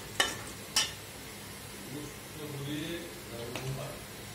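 Onions frying in oil for haleem give a soft, steady sizzle with a few sharp clatters of a spoon against the pan, heard close, with a person talking over it.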